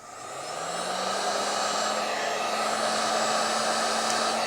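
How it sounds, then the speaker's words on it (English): A heat gun blows hot air onto the thermostat of a Silvercrest SHKV 55 A1 radiator booster, a loud, steady close-up whoosh that rises quickly as it starts and then holds an even, constant tone with no talking. "let's trick the thermostat, heat gun, and it will turn on."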